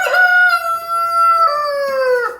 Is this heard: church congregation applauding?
no